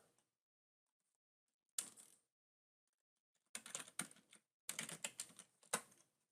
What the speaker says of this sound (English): It asks me for a location to save, so I will type a name right here.